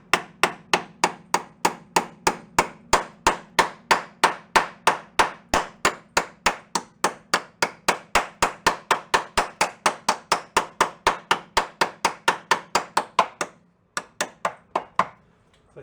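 A hammer taps tacked metal on the frame of a 1972 VW Super Beetle during frame repair, giving a long, even run of sharp, ringing strikes at a steady quick rhythm that stops briefly near the end.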